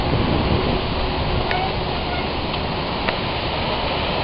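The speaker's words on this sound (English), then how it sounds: "And look at these falls." A waterfall at Falls Park roars as a steady, loud broadband rush that fills the whole stretch without a break, heard close by from a bike ride beside the falls.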